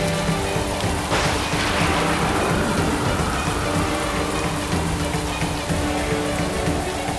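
Heavy rain pours down steadily and loudly, a dense continuous downpour with no voices heard over it.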